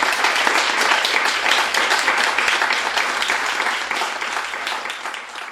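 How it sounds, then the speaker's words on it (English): Sustained applause from an audience at an author's book reading in a bookstore, a dense, steady wash of many hands clapping at even loudness throughout. "Ladies and gentlemen, round of applause."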